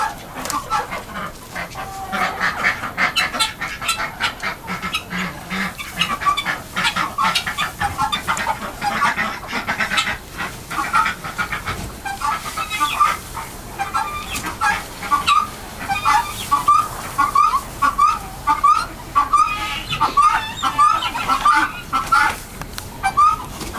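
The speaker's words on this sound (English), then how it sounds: "Day in the chicken coop." Chickens in a chicken coop cluck and squawk continuously, with a dense chorus of repeated clucks building toward the end, close and loud throughout.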